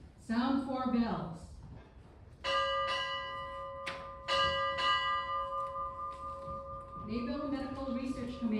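At a Navy ceremony, four clear ship's bell strikes come in two spaced pairs, each tone ringing on sharply. A man calls out briefly before the bells and again once they fade.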